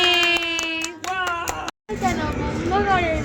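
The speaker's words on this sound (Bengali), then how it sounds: "হাততালি" Hands clap at a New Year's Eve celebration among friends, appearing as quick sharp claps mixed with children's singing and chatter.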